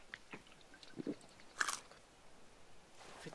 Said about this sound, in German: Ich finde es so grusig, wie der schluckt, so voll laut.